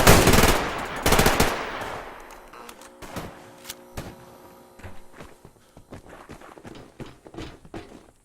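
Gunfire in the shooter video game Survarium: loud, rapid automatic bursts open the scene, then give way to scattered single shots, thuds and footsteps.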